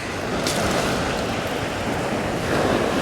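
Strong wind buffets the microphone on a shingle beach in West Sussex, a loud continuous roar mixed with surf.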